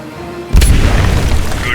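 A loud explosion in the Aliens: Dark Descent video game, a sudden deep boom that cuts through quiet ambience and leaves a long, heavy rumble with a faint high whine near the end.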